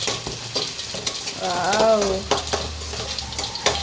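Fenugreek seeds fry in hot oil for a fish curry, giving a close, steady sizzle broken by scraping stirs and light pan knocks, with a brief whistling tone in the middle.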